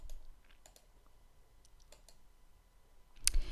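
A computer mouse clicks a few times in quiet sequence while a hotel is being booked online, soft close ticks spaced across the moment, with one sharper click near the end.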